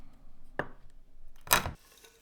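Two short, crisp cuts through green cardamom pods, a faint snip followed by a louder crunch about a second later, close up and otherwise quiet.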